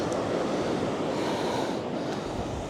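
Strong wind blowing on an ocean shore while shore jigging for salmon, a loud continuous roar and rumble buffeting the microphone, blended with broad surf-like noise and no talking.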